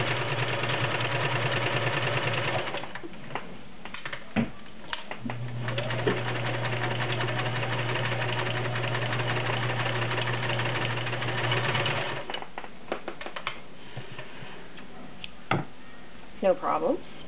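A 1941 Kenmore sewing machine stitches through six layers of Levi's denim with a steady, close motor whir that runs for several seconds at a time, broken by pauses, clicks and nearby talk.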